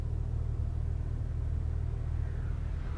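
A Jeep Grand Cherokee with a 4.0L engine idles with a misfire, a low, close rumble that throbs steadily, with no one talking.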